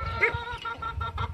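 A hen looking for a place to lay clucks in short, broken calls, close by on a farm in Verdejante, Pernambuco, with some faint background noise between the calls.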